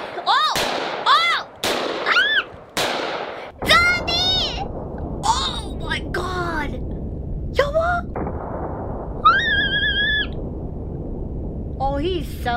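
Pocket pistol shots ring out as several sharp, loud reports in quick succession early on, followed by distant booming fire while excited voices chatter and exclaim over the shots.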